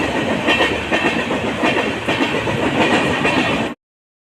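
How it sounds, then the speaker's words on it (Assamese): A long train rolling past, steady rhythmic clickety-clack of rail cars on the tracks, close and loud, continuous until it cuts off abruptly near the end. "তোমাৰ দীঘল ট্ৰেইন দেখি পাইছে"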